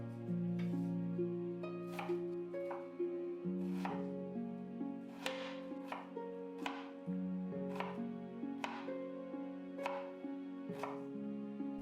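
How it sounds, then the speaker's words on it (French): Red onion being chopped into small pieces on a cutting board, about ten crisp knife strikes at a steady unhurried rhythm, clear and close over quiet background music, no talking. "Je vais commencer par couper en petits morceaux l'oignon."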